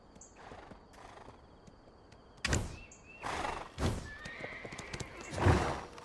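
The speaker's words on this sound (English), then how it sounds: "Wild horses can be tamed and captured." Wild horse in Black Desert game whinnies several times in loud, sharp bursts, with clip-clop hoof sounds and faint game ambience between the calls.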